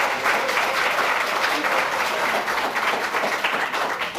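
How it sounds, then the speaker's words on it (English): An audience at a George Town Central candidates forum in Grand Cayman applauds, dense steady clapping from a full room that carries evenly for about four seconds. "give yourselves a round of applause"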